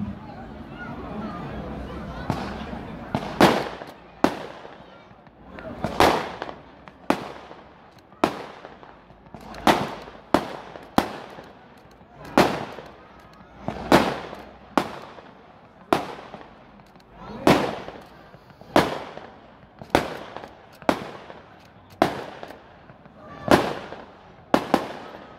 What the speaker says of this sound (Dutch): En dat zijn 20 schoten, dat is een cake